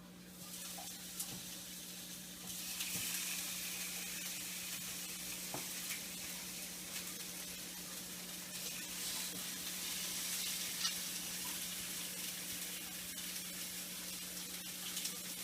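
Bone-in beef chuck fries in hot oil in a pot for a Mexico City mole de olla beef soup, a steady close sizzle starting a few seconds in and holding loud and even throughout, with no talking.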